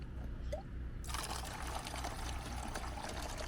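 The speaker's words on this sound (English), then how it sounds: "Getting some action shots of the water spigot" Water running from an outdoor spigot at Yellowstone or Glacier National Park, a steady close splashing stream that grows fuller and louder after the first second and continues without talk.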